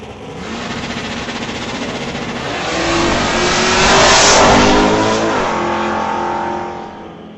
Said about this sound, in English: The Stone Cold Racing Willowbrook Motors Dodge Dart going up against the 5-liter Mustang of Baskerville